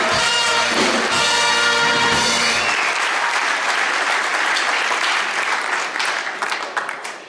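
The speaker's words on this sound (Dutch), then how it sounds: "Een geweldige applaus." A large audience at a Dutch carnival revue bursts into loud, dense applause that rolls on for several seconds, with music playing over the opening and the clapping thinning out toward the end.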